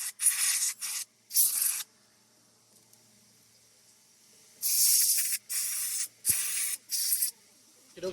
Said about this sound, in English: Let's spray this guy down a little bit.